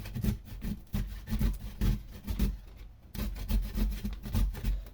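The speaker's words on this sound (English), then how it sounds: "We grate the ginger." Fresh ginger is grated in close, steady back-and-forth rasping strokes. The rubbing has an even rhythm and pauses briefly once partway through.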